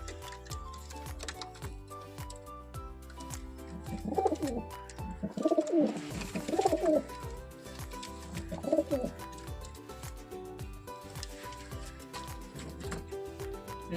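Kaldum pigeons in a loft give several soft, throaty coos in a cluster, set against a quiet room with faint ticking and a low background hum.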